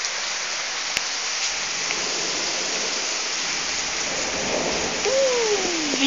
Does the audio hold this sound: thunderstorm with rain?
yes